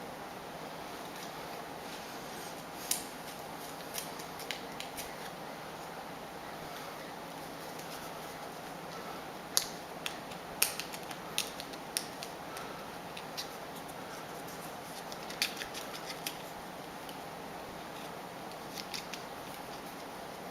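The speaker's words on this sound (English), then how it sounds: "Just popping the little holes out" Small paper holes being popped out of a lacy die-cut card edge, faint scattered ticks and snaps over a quiet hiss, irregular and close.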